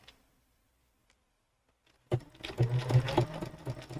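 A Bernina sewing machine fitted with a #86 ruffler foot starts stitching after two seconds of near silence, a close, steady mechanical whir with rapid ticking needle strokes and a rhythmic clack as the ruffler pleats.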